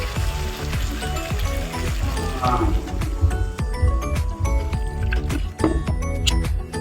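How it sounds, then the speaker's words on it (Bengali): Water poured into a hot cooking pan in a home kitchen while lunch is made, a steady splashing hiss with a sizzle under a busy, cluttered background. "তো দেখো জল দিয়ে দিচ্ছি এখানে।"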